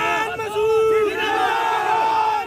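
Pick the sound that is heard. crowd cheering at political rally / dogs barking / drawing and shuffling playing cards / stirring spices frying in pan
crowd cheering at political rally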